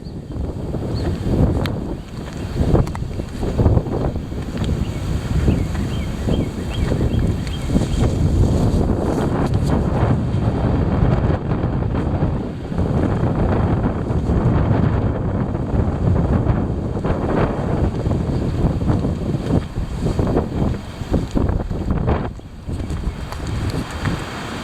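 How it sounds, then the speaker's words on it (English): Heavy wind roars steadily outdoors near trees, with loud gusts buffeting the microphone throughout and low rumbling surges that rise and fall without pause. "Here it is. The heavy wind."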